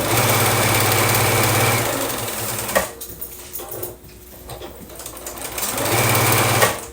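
Sewing machine stitching nested quilt seams with a loud, steady motor drone close up, pausing briefly in the middle with quieter handling noises before the stitching resumes.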